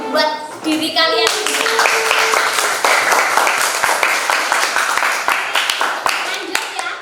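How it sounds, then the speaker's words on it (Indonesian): Students in a classroom clap for themselves after group presentations, a dense, loud burst of many hands clapping that starts after a teacher's voice and carries on steadily to the end. "Kasih tepuk tangan dulu buat diri kalian."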